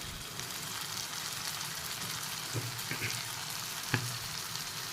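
Bottle gourd pav bhaji frying in a pan, a steady close sizzle throughout with a few brief stirring clinks and scrapes, no talk.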